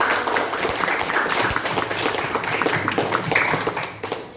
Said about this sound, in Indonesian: Yuk kita kasih aplaus buat kelompok 1